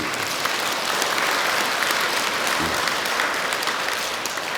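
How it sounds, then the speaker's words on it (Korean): Steady, dense applause of thanks from a congregation at a Sunday Buddhist temple service, filling the whole stretch at an even level with no talk over it. "감사의 박수 부탁드립니다"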